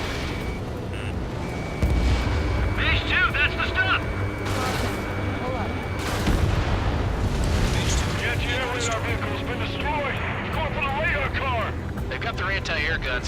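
Anti-air guns fire in Ace Combat 7 amid booming explosions, aircraft roar and radio chatter, with heavy rumbling blasts and sharp crackling bursts under overlapping voices.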